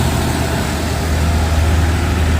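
A truck labouring up a steep hill: a loud, steady low-pitched engine drone with dense rumble and broadband roar, close and continuous throughout.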